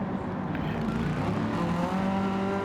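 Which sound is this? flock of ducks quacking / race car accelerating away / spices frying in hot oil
race car accelerating away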